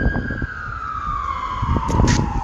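An ambulance siren sweeps past near a hospital, its steady wailing tone gliding slowly downward as it passes, loud over low street traffic rumble.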